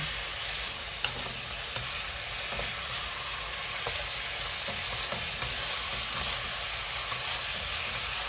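Ground meat (giniling) sizzles steadily in a pan while a spatula stirs it, giving light scrapes and clicks throughout, with one sharper knock near the start and no talking.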